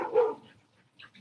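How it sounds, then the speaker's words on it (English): Dogs barking nearby, one short loud bark followed by a quieter yip a moment later. "I don't want you to hear the dogs."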